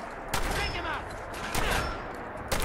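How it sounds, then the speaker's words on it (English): Shotgun blasts in the video game Fallout 4, three sharp reports spaced about a second apart over a steady background, fairly loud and close, without speech. "I shot you with a shotgun"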